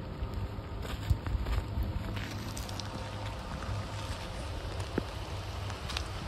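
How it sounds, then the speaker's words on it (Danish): Rain falls on a Halloween afternoon outside an old dairy building set for demolition, a steady soft patter and scattered drops hitting surfaces, fairly faint and continuous with no voices. "Så kom regnet."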